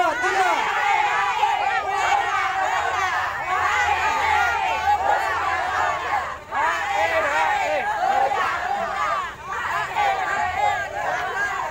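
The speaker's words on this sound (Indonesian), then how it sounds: "silakan tunjukkan gaya yel-yel kemenangan Anda" An outdoor group at an outbound team-building event shouts a rhythmic victory chant together, loud and sustained, with several voices in unison and crowd babble around it.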